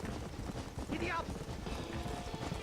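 Horse hooves clip-clop at a gallop in the Western video game Red Dead Redemption, a steady rapid rhythm mixed with game noise and a brief whinny-like sweep, with a voice talking over it.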